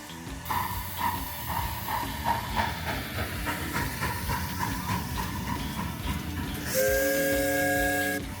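A miniature steam train at a large miniature railway park pulls out onto the main track, chuffing in a steady rhythm with hissing steam, then a loud sustained steam whistle near the end.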